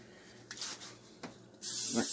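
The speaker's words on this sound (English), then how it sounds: "we're going to spray the whole pan first" Cooking spray hisses from a can onto a springform pan in a few quick, close bursts, ending in a longer, louder spray.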